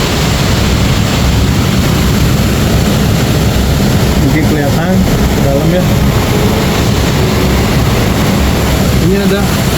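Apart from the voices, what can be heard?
roar of a waterfall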